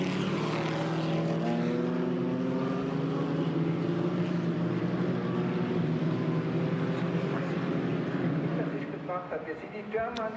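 GT4 race cars pass at the Nürburgring during a race, a loud sustained engine roar with shifting pitch that fades slightly near the end, with commentary talk over it.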